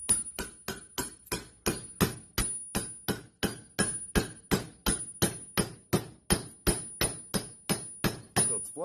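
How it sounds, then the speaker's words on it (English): A hammer repeatedly strikes a socket to drive a 35-spline wheel bearing in on a 4x4, giving sharp metallic blows at a steady, even rhythm, close and distinct, about two or three per second. "And then all I do is I just hammer it in."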